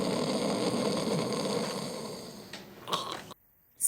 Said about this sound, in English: To snore.